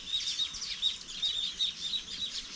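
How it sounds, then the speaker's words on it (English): A flock of yellow weaver birds in a Jamaican forest chirps busily, many high, quick tweets overlapping in a constant twittering chorus at moderate distance. "The weaver birds."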